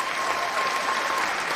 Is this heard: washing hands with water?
no